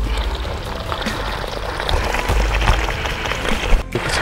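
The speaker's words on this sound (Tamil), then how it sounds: "தண்ணி இப்போ பாயுது பாருங்கள்." Irrigation water flowing in a mango orchard, a steady close rushing and gurgling stream with small splashes and a low rumble, no talking.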